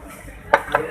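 A utensil stirring curry beef udon in a bowl gives two quick close clinks against the dish after a soft quiet moment, with no talking.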